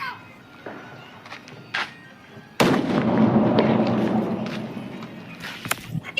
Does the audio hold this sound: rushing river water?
no